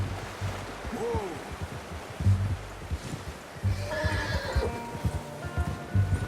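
A horse in Red Dead Redemption 2 gives a clear whinny, then its hooves clip-clop in uneven steps close by.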